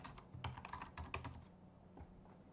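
Typing on a computer keyboard while entering data, a quick irregular run of close, crisp key clicks with a few heavier keystrokes, heard alone.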